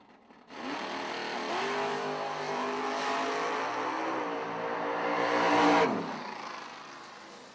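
A drag race car makes a single solo pass at Galot Motorsports Park during the K&N Spring Fling, its engine roaring loudly and climbing steadily in pitch through the gears for several seconds before cutting off abruptly.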